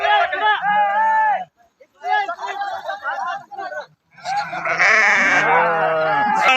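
Sheep and goats of Balumama's flock bleat loudly and repeatedly at close range, calls overlapping in bursts with brief pauses, amid background crowd chatter.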